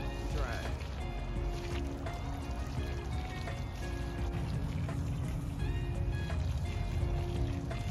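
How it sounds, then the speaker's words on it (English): Water poured onto bone-dry soil at the roots of plants in a raised garden bed, a steady trickling splash under nearby voices and background noise. "Just watering by the roots because this soil is"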